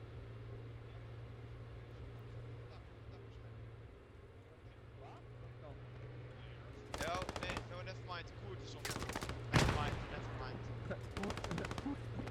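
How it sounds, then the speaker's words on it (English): Gunfire and grenade blasts in the WWII shooter Post Scriptum, with Panzer 38 tanks and a German half-track in play: several sharp bursts and loud bangs break in over a steady low engine drone during the second half. "With a grenade volley going on now."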